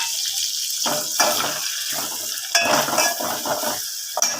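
Ginger-garlic paste, red chili and turmeric are stirred in a hot pan, giving a steady sizzling hiss broken by repeated scraping strokes of the spoon.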